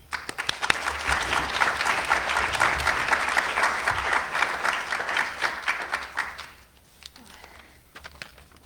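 Audience applause welcoming a speaker to the podium at a nursing school white coat ceremony, steady dense clapping from a large crowd that carries for about six seconds and then tapers off to scattered claps.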